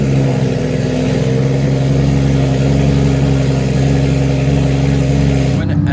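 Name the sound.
Porsche engine cold start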